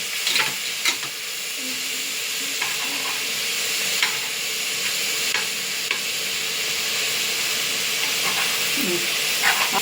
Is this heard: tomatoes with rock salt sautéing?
yes